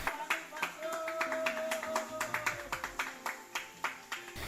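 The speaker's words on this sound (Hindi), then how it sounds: "जैसे ही ताली बजती है, ये विशालकाय चट्टान पानी की बूंदें बरसाने लगता है।" Hands clap repeatedly near a large rock, with sharp, fairly faint claps at an uneven rhythm, while background voices and music play underneath.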